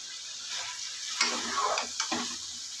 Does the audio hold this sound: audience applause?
no